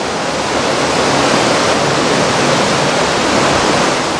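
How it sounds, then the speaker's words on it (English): A downpour of heavy rain hammers a cruise ship off New Zealand, a loud, unbroken hiss of falling water filling the whole moment with nothing else breaking through. "Water just pouring down here."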